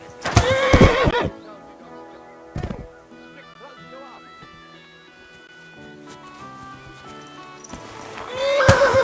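A horse in the medieval video game Kingdom Come Deliverance II gives two loud, close whinnies, one opening and one closing the stretch, with a short snort between and quiet musical score underneath.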